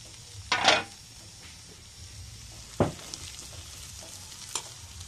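Manimuni (Barhmi) fish with potato and tomato cooking in a pan over a low gas flame, heard as faint steady sizzling with three short stirring scrapes, the first and loudest near the start.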